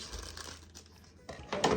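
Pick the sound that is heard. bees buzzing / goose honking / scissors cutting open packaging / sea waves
scissors cutting open packaging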